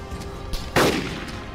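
A single loud gunshot rings out in a first-person shooter game during a bandit meet-up mission, a sharp broadband blast after a quieter stretch, followed by a decaying tail.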